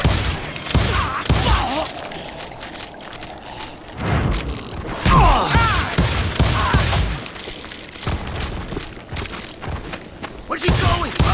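Western-style gunfights in the game Call of Juarez Gunslinger: loud, rapid bursts of gunfire with metallic clatter and booms, the shots coming in dense clusters over several seconds.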